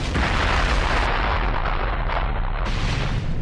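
A nuclear explosion in a Dragon Ball Super fan animation, a loud sustained roaring blast with dense rumbling low end that holds steady for several seconds, no voices over it.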